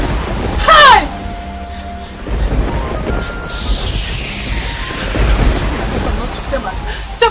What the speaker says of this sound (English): This thunder and lightning,